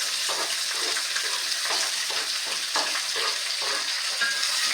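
Green chillies with onion and curry leaves frying in hot oil for a Kerala chicken curry: a steady, close, dense sizzle with soft crackles and occasional stirring, with no one talking.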